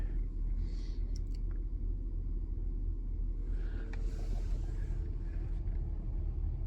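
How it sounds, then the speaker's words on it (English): A 2011 Chevy Traverse engine idles with a low, steady rumble and a slight unevenness, heard close and continuous, with faint higher sounds briefly in the background. "The car is stumbling a little bit,"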